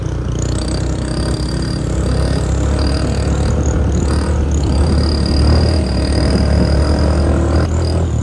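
A loud, steady motorcycle engine drone, close and continuous throughout, with no speech.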